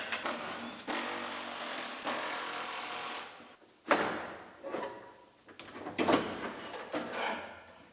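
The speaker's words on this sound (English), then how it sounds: "And take the door latch off." A door latch is worked free from the door of a 2006 GMC Sierra pickup, giving a series of close metallic clicks, scrapes and rattling knocks of varying loudness with short pauses, no speech.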